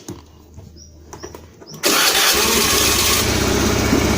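Honda Beat FI scooter engine cranking with a few faint clicks, then catching abruptly and settling into a loud, steady idle close by, with no voices.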